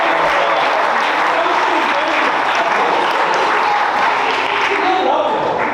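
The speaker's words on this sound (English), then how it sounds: "So, round of applause for my best men." A wedding reception crowd gives the best men a full round of applause, loud continuous clapping filling the room from start to end, with faint voices mixed in.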